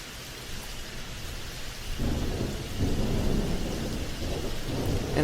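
Steady rain hisses beneath a deep rumble of thunder on Hilton Head that swells and rolls on, growing louder toward the end, with no voices.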